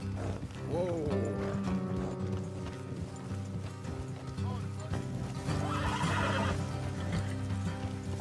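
Horses in the Red Dead Redemption 2 video game whinny and snort as hooves clip-clop along a road, a sharp neigh standing out early, set against a continuous bed of game music and ambient rumble.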